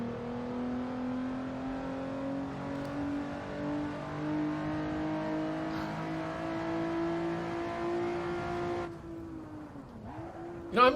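Race car in Assetto Corsa during a Le Mans 24-hour event, its engine droning steadily and climbing in pitch as it accelerates, then cutting off abruptly before a brief rev at the end.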